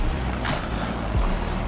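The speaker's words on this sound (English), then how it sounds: "Awesome waterfall." Waterfall outside a pond and water garden centre pours in a steady, loud, broadband rush that stays constant from start to finish with no talk.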